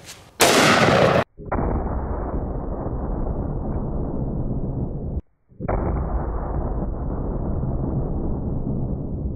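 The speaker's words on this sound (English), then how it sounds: "Vaporize that pineapple. Let's see how 500 Magnum does." A .500 S&W Magnum snub-nose revolver fired at a pineapple: one sharp, loud blast followed by a long, heavy roaring rumble, briefly cut off and then resuming.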